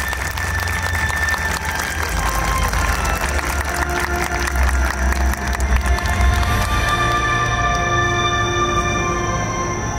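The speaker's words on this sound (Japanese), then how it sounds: "大きな拍手をお願いいたします" Audience applause fills an outdoor festival awards ceremony at the Koiya Matsuri 2022 finale, a steady, loud, sustained wash of clapping from a large crowd lasting throughout, with some cheering mixed in.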